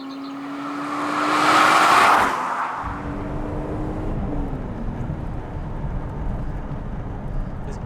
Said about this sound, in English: from in here you just got this dominating noise of supercharger whine